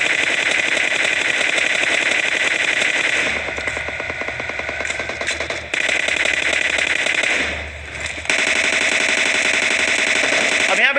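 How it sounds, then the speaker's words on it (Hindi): Rapid automatic gunfire from the Free Fire video game rattles in dense, sustained bursts, loud and continuous with short pauses between volleys. "लेकिन भाई रोजोक से फायरिंग की साउंड आ जाए इतने में"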